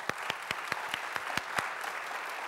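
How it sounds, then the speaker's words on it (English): Audience applause fills a hall at a 125th anniversary show as committee members stand to be honored; individual claps ring out sharply over a steady, moderately dense patter that holds evenly throughout. "Let's give them a round of applause."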